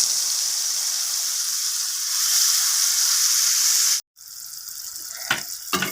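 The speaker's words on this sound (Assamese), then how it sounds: "মই যিখিনি দহি মছলা লৈছিলোঁ সেইখিনি মই ইয়াত তেলতে দি দিম" Yogurt spice masala dropped into hot oil for Assamese kothalor musi, a steady bright sizzle that briefly cuts out, then resumes with a few sharp crackles.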